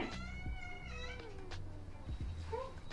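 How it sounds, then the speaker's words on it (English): A small female cat meows several times in close succession, high and fairly quiet, with soft indoor background noise. "Meowing for me."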